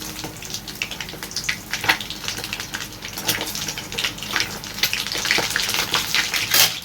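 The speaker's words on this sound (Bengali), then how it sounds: "এই যে দেখতে পাচ্ছ ডিমটা ভাজা হচ্ছে।" An egg frying in a pan in a home kitchen gives a steady crackling sizzle with sharper spits of hot oil throughout, fairly close and continuous, with no talking.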